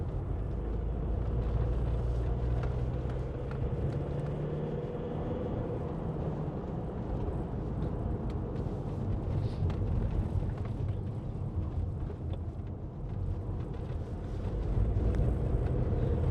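A 2021 Ford Transit Custom 2.0 EcoBlue diesel van climbs a hill, heard from inside as a continuous low engine drone and road rumble that holds steady and grows slightly heavier near the end.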